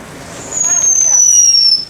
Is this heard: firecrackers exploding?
yes